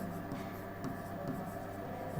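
Marker or chalk scratching across a classroom board during a basic maths lesson, a steady continuous scraping with small strokes, fairly quiet and without speech.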